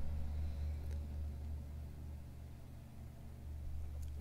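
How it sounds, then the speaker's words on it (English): Vehicles pass by outside as a steady, low road rumble that holds across the whole stretch, fairly distant and without any talking. "Got to wait for some vehicle movements to go past there."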